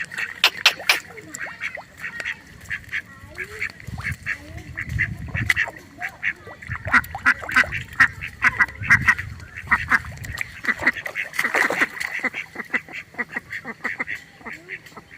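Ducks quack repeatedly at a village pond in rapid, overlapping calls up close, with a voice speaking now and then underneath.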